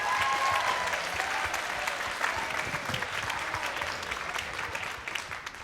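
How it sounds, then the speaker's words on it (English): Crowd applauding judges and performers at a competition with a DJ, a dense sustained clapping that holds steady and tapers slightly near the end, alone without speech. "Give us a round of applause, please."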